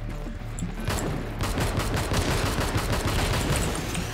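Sustained rapid enemy gunfire and bursts in the racing FPS game BIOS, dense and continuous across the clip with loud layered shots and no talking.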